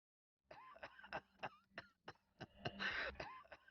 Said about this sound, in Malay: Adakah di kalangan keluarga anda mempunyai tanda-tanda batuk sebegini?